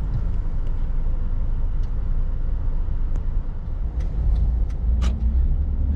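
Heavy road traffic at a busy roundabout on Grand Cayman, heard from inside a car: a constant low engine and tire rumble, with passing vehicles, brief squeaks and a hissing brake nearby.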